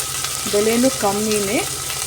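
Ginger garlic paste fries in a pan for chicken biryani, a steady close sizzling hiss briefly crossed by a short squeaky, whining tone.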